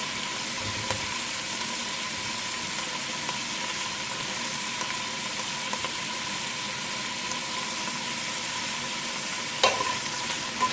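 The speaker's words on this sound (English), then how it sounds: "just have to mix it well and cover it for 5 minutes until you got the meat and the onion" Meat and onion for bigos, Polish hunter's stew, sizzle in a pan while being stirred, a steady close frying hiss with a few soft scrapes and one sharper clink near the end, no talking.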